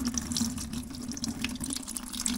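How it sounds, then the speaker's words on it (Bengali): Steady water from a tap runs and splashes over Raida Aqua Dry riding gloves, a continuous close hiss and spatter with no pauses. "এই দেখো আমি হচ্ছে এখানে জল দিচ্ছি।"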